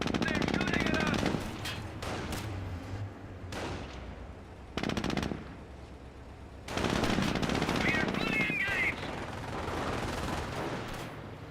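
Bursts of machine gun fire rattle across a Company of Heroes World War II battle, several loud volleys with short gaps between them, joined by other gunfire and a voice speaking over the fighting.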